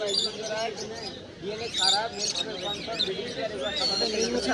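Pineapple and green-cheeked conures kept in pairs at a busy bird market: shrill, rapid chirps and squawks close by, overlapping with other birds and surrounded by market chatter.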